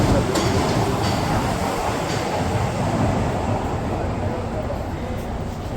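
A loud, steady rumble of a moving train, continuous and close, with faint clattering and wheel noise throughout, on a train in Osaka bound for Yumeshima.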